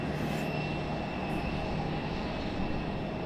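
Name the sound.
American Airlines Embraer E-175 jet taxiing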